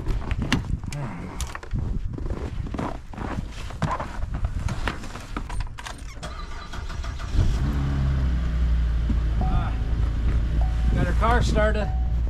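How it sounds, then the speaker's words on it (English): A car engine starts after a blizzard and settles into a steady idle, following footsteps and shuffling in snow, with people talking nearby and a hum that stays loud and constant. "Got her car started."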